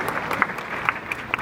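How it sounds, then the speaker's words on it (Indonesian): An audience in the AAC Dayan Dawud hall at Unsyiah, Banda Aceh, claps briefly in a dense, even patter of many hands, a short burst of applause with no voices above it. "bisa tepuk tangan dulu sebentar untuk video yang luar biasa ini"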